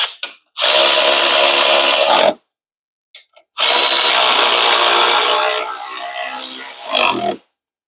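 Power tool tightening the supercharger pulley on a supercharged Honda Prelude with a GM pulley and JRSC kit: two loud, sustained whirring bursts with a brief clatter between, the second winding down and dropping in pitch before stopping.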